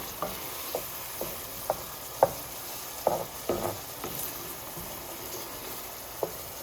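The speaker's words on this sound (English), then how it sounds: "I want this all to come back to the good bubble and cook it together for a little while" Coconut curry with whole red rockfish simmers and sizzles in a pan, a soft steady bubbling bed broken by a spoon's irregular stirring clicks and scrapes, close and fairly quiet with no talking.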